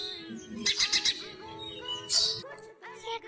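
Small birds chirp in quick bursts of bright, high tweets, pausing between short clusters, fairly close and clear against a quiet background.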